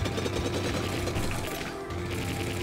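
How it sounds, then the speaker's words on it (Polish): In the SteamWorld Dig video game, a drill grinds through rock as a steady, dense rattling buzz that runs continuously, then dips briefly before resuming. "muszę trochę pokorzystać z naszego wiertła, ponieważ e, nie byłoby opcji przekopania się tutaj bez niego"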